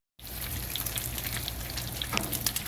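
Bacon sizzling in a pan, a continuous crackling hiss with scattered pops, close and fairly quiet, starting abruptly and running steadily with no voices.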